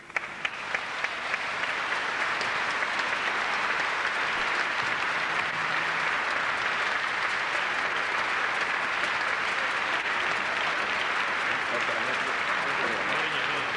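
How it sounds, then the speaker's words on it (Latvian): Audience applause at a Christmas concert as all the performers are called onto the stage, a dense, steady clapping that holds at full strength from start to finish. "Aplausus lūdzu."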